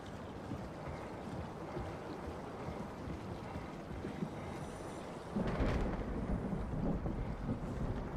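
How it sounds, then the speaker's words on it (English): Thunder rumbles as a low, continuous roll, swelling louder near the end with a deeper surge, heard alone with wind-like noise. "thunder actually happens underwater"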